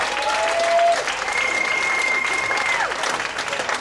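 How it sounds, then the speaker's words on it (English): Audience at a university poetry slam in a bar applauds a poet, dense steady clapping throughout with a couple of faint whistles rising above the crowd. "Can we get a round of applause for Cleo?"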